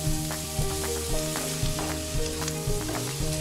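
Bacon, spinach and garlic frying together in a pan, a steady loud sizzle with rhythmic stirring scrapes and clinks of the utensil every half second or so.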